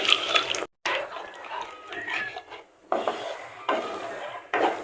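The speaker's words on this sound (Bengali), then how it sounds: "গরুর দুধ এবার অনবরত নাড়তে হবে যেহেতু ময়দা লেগে যাবে" Flour and cow's milk stirred in a pan on a gas stove for chicken star bread give close, steady scraping and rubbing with wet swishing, broken by a brief pause and recurring louder strokes.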